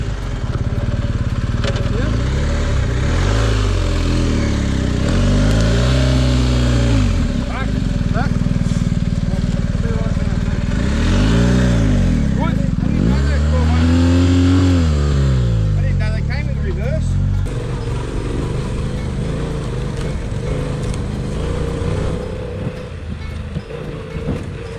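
A BMW 1250 adventure motorcycle on a rough off-road trail, its engine loud and close, revving up and down in repeated swells under continuous background noise.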